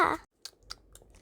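Chewing sounds from the video game Sakura School Simulator, a few short crisp clicking bites spaced apart after a brief burst of louder noise, close and fairly quiet.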